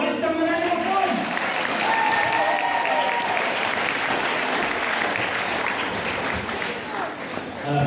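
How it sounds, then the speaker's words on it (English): An audience at a sheep show claps warmly for a prize Jacob ram, giving a dense, sustained round of applause. Some voices mix in underneath, and the clapping eases off slightly near the end. "Let's give him a round of applause."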